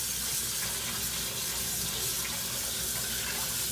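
Warm tap water runs steadily over raw chicken in a sink, a close, continuous splashing hiss with no pauses and no speech.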